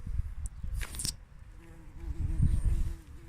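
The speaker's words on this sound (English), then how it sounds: "The bees are about because the flowers are out," Bees buzz around flowering plants on an allotment in late April, a low droning hum that rises and wavers as insects pass close, with rustling and a short clatter near the start.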